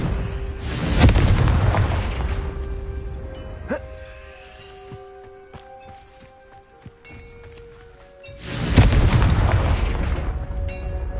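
Confringo spell blasts in the Hogwarts Legacy video game: two loud booming explosions several seconds apart, each with a long rumbling decay, separated by quieter game effects, chimes and footsteps.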